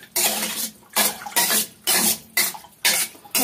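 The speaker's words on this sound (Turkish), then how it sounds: "bu şekilde makarnamızı süzüyoruz" Boiled pasta draining through a colander and rinsed under cold water, with the water pouring and splashing in about seven loud, regular bursts that stop briefly between each pour.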